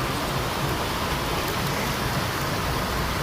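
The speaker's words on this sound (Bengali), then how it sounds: "সুন্দর সুন্দর পরিবেশে অনেক সুন্দর বৃষ্টি হচ্ছে, বাতাসে প্রচুর ঠান্ডা ঠান্ডা বাতাস আর বৃষ্টি একসাথে হচ্ছে।" Steady rain falls with cold gusting wind among coconut palms, a constant even hiss of moderate loudness and no voices.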